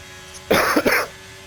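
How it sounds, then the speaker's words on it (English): A single short burst of coughing, two or three quick hacks clustered together, close and clear against a quiet background hum. "Apologies for any coughing in the background"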